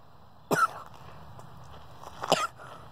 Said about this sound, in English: I have a cough. A common cold cough that's going around.